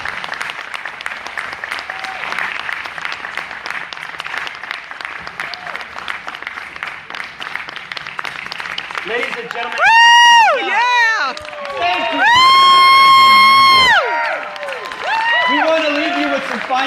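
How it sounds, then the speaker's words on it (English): Audience applause and cheering at a seminar as speakers come up to the stage, dense steady clapping with a few loud shouts and whoops bursting out near the end, voices mixed in. "Let's give these gentlemen a round of applause as they come up to the stage."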